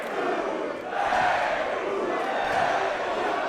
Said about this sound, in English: This crowd is nuts, boys.